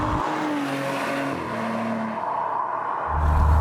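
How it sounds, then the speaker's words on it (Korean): A 2020 Maserati Levante Zegna Pelletessuta in sport mode gives a deep, thick exhaust note with gliding engine tones that shift as revs change, close and continuous, swelling louder near the end. "지금 이제 스포츠 모드가 들어가 있기 때문에 조금 이제 배기음이 두텁게 이제 나오고 있는데"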